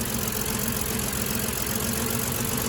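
A car engine idles with too much oil in it, running at a steady, continuous rumble close by with a faint ticking knock and no talking over it.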